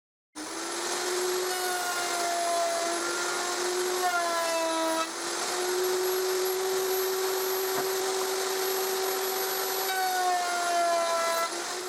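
Steady high-pitched whine of a router on a router table tenoning jig cutting a wooden strip, sustained loud motor tone with slight pitch shifts as the bit bites into the wood, no talk.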